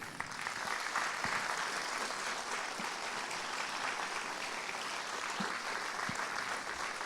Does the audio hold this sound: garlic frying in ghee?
no